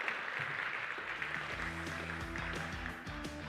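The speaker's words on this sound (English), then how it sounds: "Another round of applause, please, for the panelists as they make their way off stage" Audience applause at a markets conference, a steady wash of clapping with music entering partway, moderately loud and continuous.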